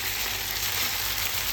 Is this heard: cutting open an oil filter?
no